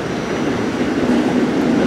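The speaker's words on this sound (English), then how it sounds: "why is the train moving?" A Staten Island Railway express train to Tottenville rolls along the track, heard from on board as a loud, steady rumbling roar with a faint rail whine, continuous and with no voices.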